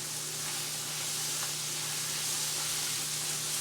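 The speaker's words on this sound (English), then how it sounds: "this is going to be a good little stir fry when I get it done here in just like 1 minute" Hamburger meat frying in a pan for a stir fry, a steady close sizzle and hiss that stays even throughout, with a low hum underneath and no talking.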